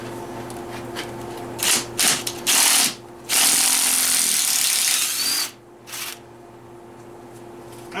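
A ratchet backs a bolt out of a 1999 Chevrolet Blazer during a teardown, giving bursts of rapid clicking. The bursts come in several short runs and a longer middle stretch against a low background hum, close by with no talking.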